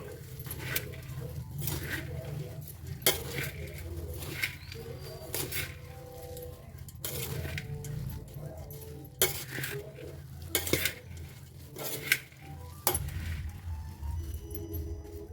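Corn chaat being mixed with a spoon in a bowl, with repeated clinks and scrapes of metal against the bowl over a soft background hum.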